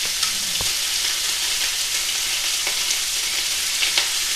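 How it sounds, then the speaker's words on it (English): Turkey bacon fries in a teaspoon of hot oil, a steady close crackling sizzle with scattered sharper pops and no talking. "I have a teaspoon of hot oil right here, ready to go for our bacon."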